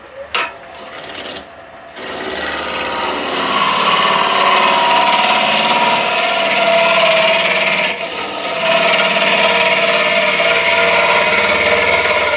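A wood lathe spins a leaning garlic pot while a tool takes light finishing cuts, a steady close scraping and rubbing hiss over the motor hum after a few brief taps at the start, with no talking.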